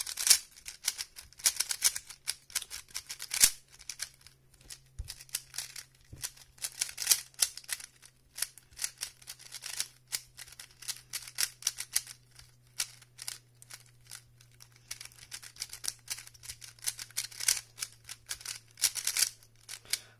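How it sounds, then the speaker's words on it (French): Rapid plastic clicking and clacking from a cheap Rubik's Cube being scrambled, a continuous busy rattle of twisting layers lasting throughout, close and fairly quiet with a steady low hum underneath. "Je prends un peu de temps à mélanger un Rubik's Cube"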